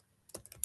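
Chat message typed on a computer keyboard, a quick burst of five or six soft, close key clicks in under a second.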